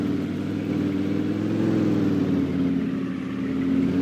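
Lamborghini engine in Farming Simulator 22, a continuous mid-pitched hum held steady at speed with slight rises, no talk over it.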